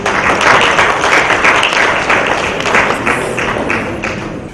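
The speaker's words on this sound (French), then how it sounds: "que je vous demande d'applaudir très fort" Audience applause at a Hokan Africa awards ceremony honoring Niger Airlines: a loud, dense wash of many hands clapping with scattered sharper taps, steady throughout and slowly easing off near the end.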